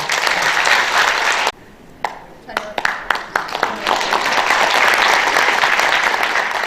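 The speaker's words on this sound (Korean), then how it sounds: "신입 이상숙 회장님과 임원들에게 축하의 큰 박수를 부탁드립니다." An audience applauds a newly inaugurated women's organization president and officers at a ceremony in Yeongcheon. Dense clapping breaks off abruptly, scattered individual claps follow, then the applause swells back to a full, loud wash.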